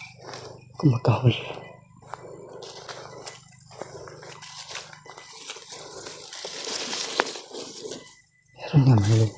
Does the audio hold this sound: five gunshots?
no